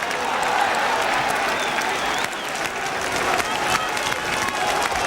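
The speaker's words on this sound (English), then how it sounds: "But generous applause for 2 good sweeping moves there by Queen's Park Rangers." Football crowd at a 1971/72 Queen's Park Rangers match applauding a pair of sweeping attacking moves, a dense, steady wash of clapping and crowd noise that holds its level throughout.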